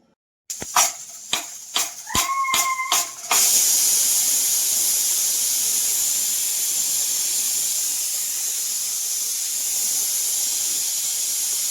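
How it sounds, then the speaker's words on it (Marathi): A pressure cooker making paneer biryani lets off a few sharp bursts, then a loud continuous steam whistle hisses steadily for several seconds. "आता कुकरच्या तीन शिट्ट्या झाल्यात"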